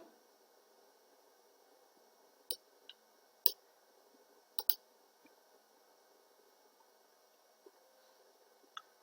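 A computer mouse clicks during an Ubuntu 20.04 software installation, with a handful of sharp, close, isolated clicks, some in quick pairs, over a quiet hiss.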